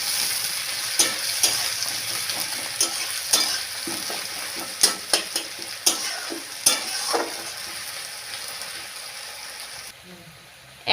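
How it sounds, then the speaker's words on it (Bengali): Onions frying in oil in a pan with cloves and cardamom, a steady close sizzle broken by repeated sharp clacks of a spoon stirring, easing off near the end. "এবার আমি পেঁয়াজ দিয়ে দিলাম সেজন্য। পেঁয়াজটাকে লাল করে ভেজে নেব।"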